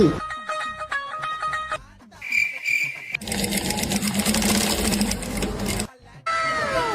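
A sewing machine stitches in short bursts of fast, rhythmic mechanical clatter, close and fairly loud, broken by brief pauses and mixed with other edited sounds.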